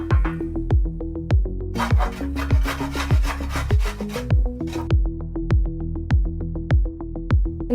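Fresh peeled coconut is rubbed against a grater in quick, regular strokes, each giving a loud, close rasping scrape, with a faster burst of strokes partway through and no talking.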